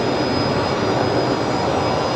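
A QantasLink Embraer jet at Brisbane Airport at night gives a steady, loud broadband engine roar that holds evenly throughout, with no voices.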